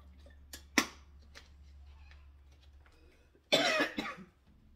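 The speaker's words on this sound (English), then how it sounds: "there the cough ensues" Two bouts of coughing from someone with a cold who also smokes, a single sharp cough early and then a longer, harsher cough a few seconds later, close to the microphone in a quiet room.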